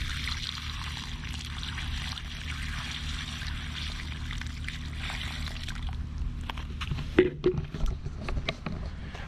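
Water pours onto a lawn from a container holding 64 ounces, a steady faint trickle and splash running under outdoor background noise, then a few brief louder knocks and splashes near the end.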